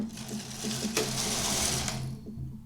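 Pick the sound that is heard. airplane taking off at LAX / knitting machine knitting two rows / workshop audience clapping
knitting machine knitting two rows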